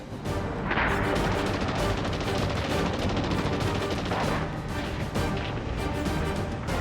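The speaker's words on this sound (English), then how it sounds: "the Japanese unleash heavy mortar, sniper, and machine gun fire" Heavy Japanese mortar, sniper and machine gun fire during the fighting on Guadalcanal. A dense, continuous barrage of crackling shots and booming blasts stays loud throughout.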